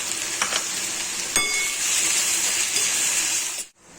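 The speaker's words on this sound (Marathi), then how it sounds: "हे बघा, त्याला असं व्यवस्थित कलसवून देणार आहे." Chopped onion frying in a pan while being stirred, a loud continuous hiss and sizzle with a few spatula scrapes, cutting off sharply near the end.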